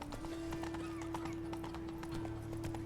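Horse hooves clip-clop in a steady rapid gallop rhythm through the medieval fantasy world of The Witcher 3: Wild Hunt, close and continuous over a low ambient game hum, with a brief whinny.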